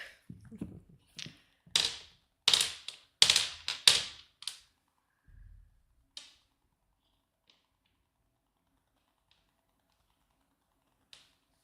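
A run of sharp riffling bursts, close and loud, like cards being shuffled in quick aggressive bouts, then quiet with a few faint taps.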